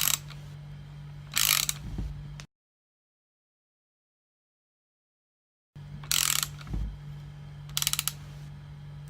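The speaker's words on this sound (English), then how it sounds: "So just take your time winding the bush in." A bush is wound in with a bush removal tool, giving short bursts of close metallic ratcheting and clicking separated by a silent gap, with a faint steady hum underneath.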